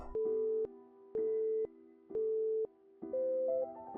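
Repeated busy-signal beeps after a phone call is hung up, four evenly spaced tone bursts of about half a second each, the last one shifting upward in pitch, clear and alone with no talking.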